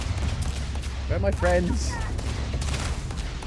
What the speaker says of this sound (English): They're just being shot by a million lasers.